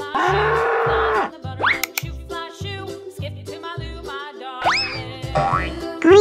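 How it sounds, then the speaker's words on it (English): Cartoon-style bull moo from a children's learning animation, a long loud bellow followed by springy boing effects over a steady bouncy beat. "Bull."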